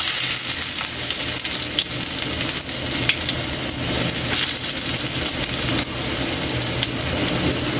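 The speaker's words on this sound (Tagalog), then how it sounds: "nagpapainit na pala kami ng mantika. Unahin na natin yung luya kaili" Ginger sizzles steadily in hot cooking oil in a pan, a constant close crackling fry with faint scraping, and no one speaks.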